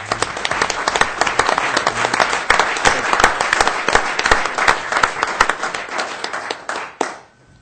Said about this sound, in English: Give this guy another round of applause.